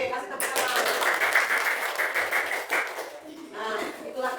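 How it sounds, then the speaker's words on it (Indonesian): A classroom of students claps together in a brisk burst of rapid, scattered hand claps lasting a few seconds, moderately close, with some voices mixed in. "Oke, kasih tepuk tangan."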